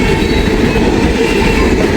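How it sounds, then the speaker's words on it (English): A long train rumbles steadily past nearby, a continuous loud roar of rolling wheels and rail noise with faint clacking throughout. "Good train here. We got a long one."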